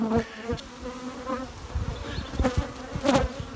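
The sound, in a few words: bees buzzing around hive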